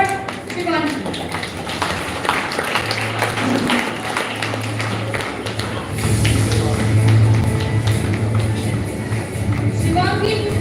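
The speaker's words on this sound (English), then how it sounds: "A huge round of applause for her." A school award ceremony audience applauds a science-stream topper: dense, steady clapping fills the room at moderate loudness, swelling slightly midway, with a low hum and some talk underneath.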